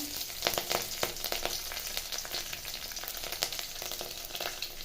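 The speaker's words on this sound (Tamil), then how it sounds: "தாளிக்கிற அளவு மட்டும் எண்ணெய் நல்லா காஞ்சது கடுகு உளுந்து கொஞ்சமாக கடலைப்பருப்பு சேர்த்துக்கலாம்" Mustard seeds, urad dal and chana dal fry in hot oil, giving a steady close sizzle broken by many small pops and crackles, with no voices.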